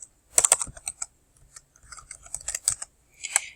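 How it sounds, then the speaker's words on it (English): Someone types on a computer keyboard in short, irregular bursts of crisp, close key clicks with small gaps between them, and no one speaks. "we're going to type introduction in all caps"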